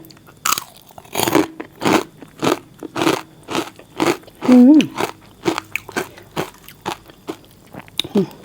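Crispy pork cracklings eaten alongside spicy fermented crab rice noodles, with a steady rhythm of close, loud bites and crunches, each chew a sharp crackle, and a brief vocal sound partway through.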